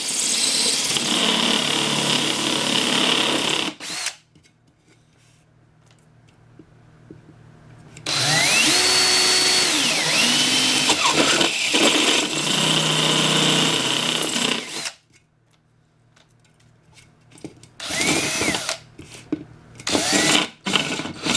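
A power drill bores angled holes into a bowl for a 3D sphere build, its high-pitched whine running in sustained bursts with pauses between holes and short blips near the end, loud and close.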